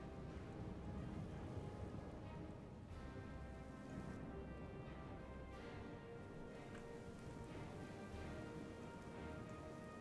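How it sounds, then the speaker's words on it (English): Rain falling during a battle in the Third Age: Total War strategy game, a soft, steady hiss of rainfall with faint scattered patters, continuous and fairly quiet with no talking. "It's raining today."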